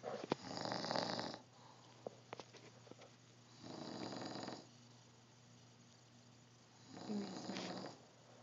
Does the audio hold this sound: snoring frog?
yes